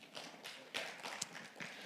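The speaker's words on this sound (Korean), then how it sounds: "박수 한번 쳐주세요" Scattered clapping from a small church student group, uneven and fairly faint, with a few sharper claps standing out.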